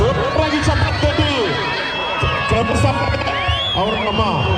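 Crowd at a mallakhamb pole contest during a village temple fair in Shivanahalli, clapping and cheering in bursts with shouts, while a voice calls over a loudspeaker.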